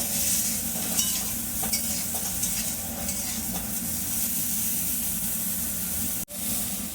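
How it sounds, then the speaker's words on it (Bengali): Small fish fry in a pan with salt and turmeric under a steady, loud sizzle, while a utensil stirs them with light scraping taps throughout. "একটু নুন, একটু হলুদ দিয়ে দিলাম। একটু একটু নাড়বো।"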